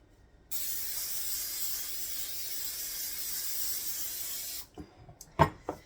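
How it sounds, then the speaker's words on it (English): Aerosol cooking spray hisses steadily onto an 8x8 baking pan for Andes mint fudge, one continuous burst of about four seconds, close and fairly loud, followed by a few light clatters of the can and pan. "So now you're going to spray an 8x8 pan."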